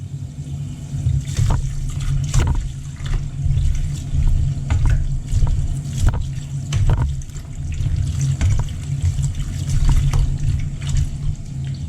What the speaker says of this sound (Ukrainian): А самі огірочки промиємо під холодною водою.